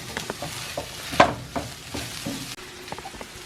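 Sauce, likely ketchup or kecap manis, stirred into a garlicky frying pan, giving soft scraping strokes over a low sizzle with one sharper clatter partway through; no talking.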